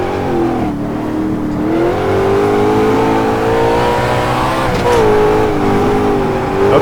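An Ultima GTR's engine revs hard and loud, its pitch climbing, dipping through an upshift, then rising again while the car slides under power on track.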